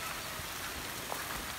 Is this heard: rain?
yes